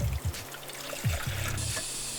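Water is poured into a Geyser Systems portable overland shower tank, heard as a few short close gurgling splashes with pauses between them.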